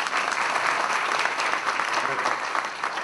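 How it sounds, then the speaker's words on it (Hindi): Audience at a peace through compassion workshop and inauguration ceremony breaks into sustained applause, a dense, steady wash of clapping filling the room for the whole stretch without pause. "ताली बजाएंगे प्लीज"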